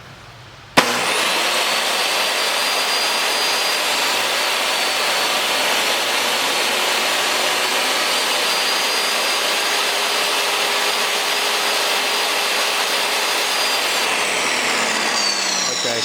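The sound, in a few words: dado cut in lumber on a saw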